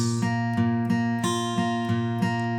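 Guitar arpeggio from a song, picked with a new root note on the 5th string and a barred index finger, steady plucked notes ringing into each other over a held low bass, close and alone.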